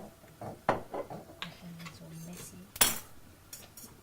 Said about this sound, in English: And give it a really light whisk.